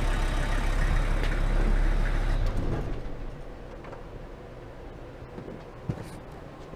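VW T4 Transporter engine idling after an oil flush, a low, steady rumble that cuts off partway through and leaves quieter background sounds and small clicks.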